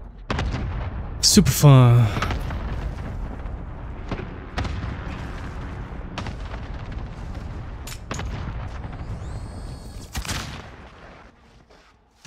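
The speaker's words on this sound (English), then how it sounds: "Allied cluster strike incoming." A cluster artillery strike in a video game lands as a rapid series of heavy booms and crackling blasts, loud at first and then scattered, with a voice speaking briefly over the barrage.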